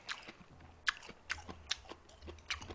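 Someone chews tough braised beef short rib with tendon at close range, giving soft, wet, irregular bites and crunches roughly every half second, quiet and with no talking.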